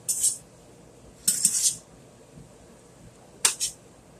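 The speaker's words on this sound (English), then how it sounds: "Get you some tongs. stir it up." Zucchini and rotini pasta stirred in a pot with metal tongs: three short bursts of bright metallic clinking and scraping separated by quiet pauses, close and crisp, no talking.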